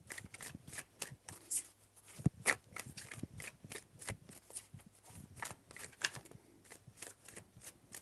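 A deck of tarot cards is shuffled close up, with quick riffling bursts and soft slaps repeating in an irregular rhythm against a quiet background.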